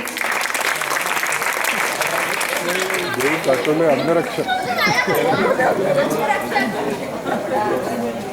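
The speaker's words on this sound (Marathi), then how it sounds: "एक वेळा टाळ्या होत्या सर्वजण." An audience at a local election event applauds loudly, a dense burst of clapping that carries on under rising crowd chatter and voices.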